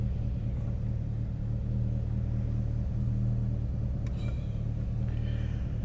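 A Mitsubishi Evo X with a Garrett GTX-3576 Gen 2 turbo, GSC S2 cams, stock block and E85 flex fuel idles steadily after starting, a constant low engine rumble throughout with no revving.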